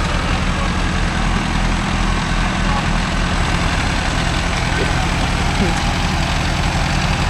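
A Mahindra Arjun Novo 605 DI tractor engine runs loud and close with a constant low diesel rumble and no change in pace, and voices can be heard faintly under the noise.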